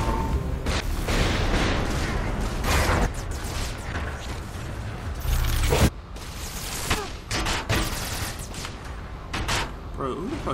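Saints Row IV gunfire and explosive booms crash in dense, loud bursts through chaotic game action, with sharp impacts scattered over a constant roar while voices talk over it.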